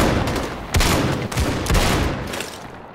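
Shotgun fire in the video game Battalion 1944, with two or three loud, close blasts about a second apart over dense ongoing gunfire.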